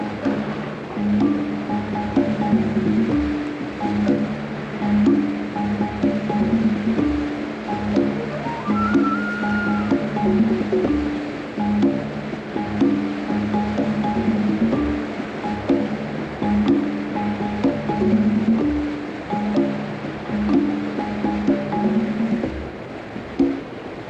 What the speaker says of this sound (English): White water, Pete.